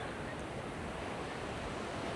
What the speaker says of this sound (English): The waves are not that high.